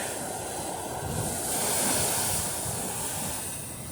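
Ocean waves surge and crash against a rocky cliff with a broad, rushing roar, swelling in the middle, with wind noise over the microphone.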